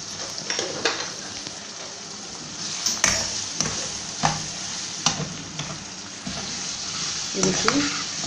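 Bhuna gosht, spiced mutton with ground garam masala, sizzles steadily in a hot pan while it is stirred, with repeated scraping clinks of a spoon against the metal close up and no talking.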